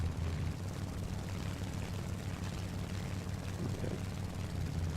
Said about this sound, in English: Taking off now. Engines are back up.